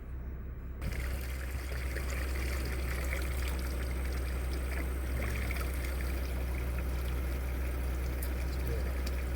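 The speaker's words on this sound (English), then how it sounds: "So many people stop here and fill up jug after jug after jug of it" Spring water runs steadily from a roadside spring into jugs being filled, a continuous close pouring and trickling wash with a low rumble, starting abruptly and holding steady throughout.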